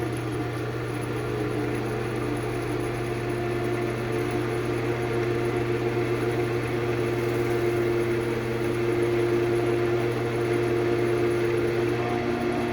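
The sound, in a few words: wood lathe spinning at higher speed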